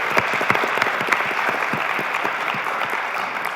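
An audience at the MIT Battlecode 2016 final tournament applauds a sponsor, a steady wash of many hands clapping at moderate distance, with a few sharper individual claps standing out.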